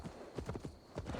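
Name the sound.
horse hooves clip-clop in Assassin's Creed Valhalla video game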